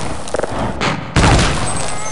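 Weapons fire in the shooter game Half-Life: Opposing Force comes as a quick cluster of sharp, loud bursts, then one heavier blast that rings out and fades.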